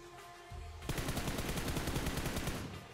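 Rapid automatic gunfire from PUBG Mobile, a dense burst of repeated shots starting abruptly after a brief quiet lead-in and continuing steadily, loud and close.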